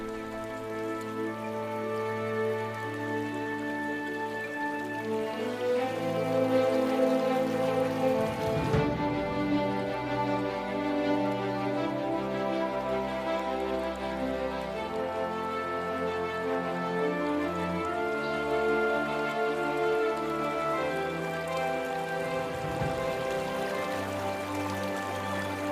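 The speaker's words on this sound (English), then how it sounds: "Heavy rain clouds mark the onset of summer." Rain falls at the onset of summer in an African wetland, a constant patter of raindrops on surfaces mixed with sustained orchestral music, steady and moderately loud throughout.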